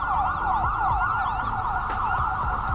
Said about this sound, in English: Some sirens going on over there.